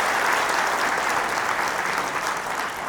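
An audience at an indoor meeting breaks into sustained applause after a speech, a dense, steady clapping from many hands that stays loud throughout and fades only slightly toward the end.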